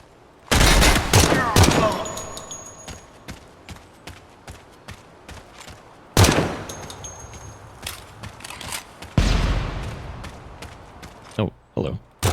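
Video game rifle fire, 5.56 and .30-06 chambered, rings out as three loud bursts of rapid shots with trailing single cracks and echoing tails between them, close and punchy, with no speech over it.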